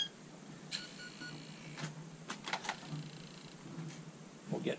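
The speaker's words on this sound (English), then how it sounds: "We'll power up the ESC here." An RC crawler's electronic speed controller powers up on a 1/12-scale MN90 Defender, giving a series of short electronic beeps and tones spread across several seconds, fairly faint against a quiet background.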